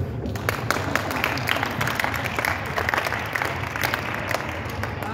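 Audience applauding at a youth AAU basketball orientation in a gym, with dense, steady clapping throughout and a faint murmur of crowd voices beneath.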